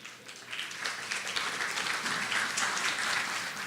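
An audience at a university education convention gives sustained applause, a dense, even clatter of many hands clapping continuously throughout.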